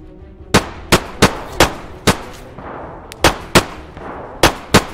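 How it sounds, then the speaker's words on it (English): Sniper rifle gunshots in the DayZ winter video game, about a dozen loud sharp cracks fired in irregular quick succession, each with a short decaying tail. "Did he just shoot at me?"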